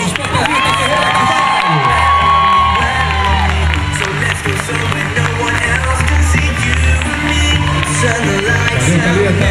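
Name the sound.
audience applauding and cheering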